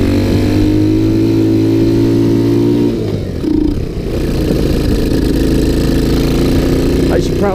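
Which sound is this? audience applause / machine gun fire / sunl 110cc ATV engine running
sunl 110cc ATV engine running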